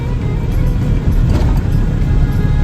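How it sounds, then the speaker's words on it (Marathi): A loaded vehicle's engine labours up a long incline on an expressway, a loud, steady low drone from inside the cab with constant road rumble and no clear gear change heard. "हा चढ आहे गाडी डाऊन गिअर मागते"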